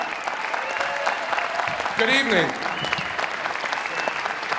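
Audience applause for Buffalo mayor Byron W. Brown at a musical tribute celebration for a music legend, steady clapping from a large crowd while someone briefly speaks over it.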